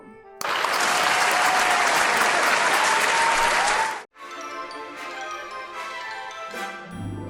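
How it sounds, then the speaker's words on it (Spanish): A comedy show audience breaks into loud, dense applause in honour of Groucho Marx, sustained for several seconds before cutting off sharply into quieter music. "Un aplauso."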